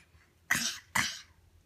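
A child's two quick sneeze-like bursts, close and fairly loud, about half a second apart, in a quiet room.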